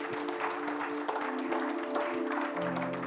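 Church congregation applauding during a French-language charismatic worship service, a steady, dense wash of clapping filling the room for the full stretch, with sustained organ or keyboard tones underneath.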